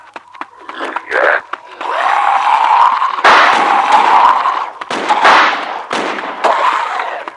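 Gunfire and explosive blasts from an action video game set in a wasteland, loud bursts and sustained crackling booms with shouting voices over the chaotic battle noise.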